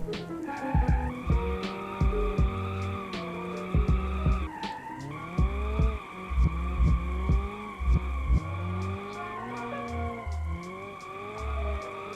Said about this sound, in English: So enjoy some drifting.